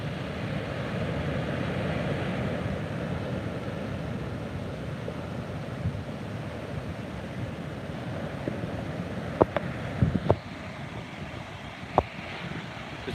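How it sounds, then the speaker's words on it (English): Ocean waves wash onto a beach in a steady broadband roar with wind buffeting the microphone, nearby and continuous, a few faint clicks near the end, no talking. "There's some nice waves, just no surfers on them."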